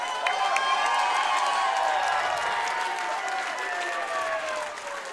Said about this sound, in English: I think they both deserve a round of applause.